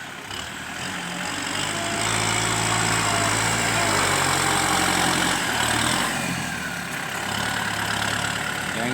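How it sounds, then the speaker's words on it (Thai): Kubota tractor engine running steadily while pushing soil, a loud, close, continuous diesel rumble that holds its level for the whole stretch with slight surges and no voices. "วันนี้มาดันดินให้ครับ"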